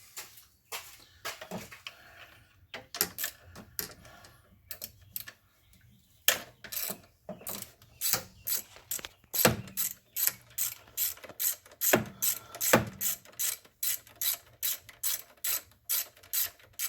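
A ratchet loosens a 12mm bolt holding the wiring harness on a 2010 Honda Crosstour, giving sharp pawl clicks in quick bursts, then a long steady run of evenly spaced clicks, close by with no talk.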